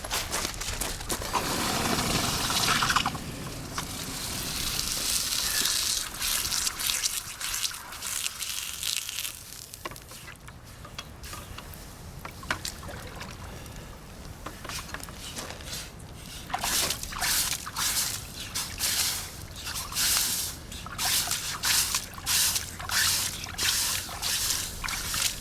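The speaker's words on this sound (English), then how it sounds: "we're going to grab it here and we're going to quench it" A hot forged survival knife blade is plunged into quenching liquid, giving a loud hissing, bubbling rush that fades into softer trickling and dripping, with intermittent crackles.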